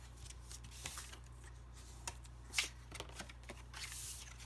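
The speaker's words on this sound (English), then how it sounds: "I'm going to fold these bottom tabs in." Paper bottom tabs on a card-stock box being folded in, a quiet run of soft papery rustles and crisp creases, close and faint with a few sharper snaps, no voice.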